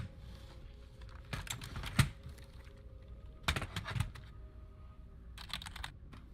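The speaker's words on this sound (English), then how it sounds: "Alright, so that's the keyboard." Typing on a computer keyboard in short bursts of clicky keystrokes, close and fairly quiet, separated by near-silent pauses.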